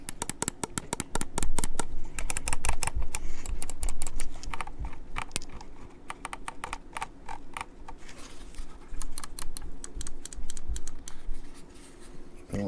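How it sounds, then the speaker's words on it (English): Rapid, sharp clicking from a Roccat Burst Pro gaming mouse's left button, many close, crisp clicks in quick succession, then sparser clicks toward the end. "let's do a quick sound test. Left click."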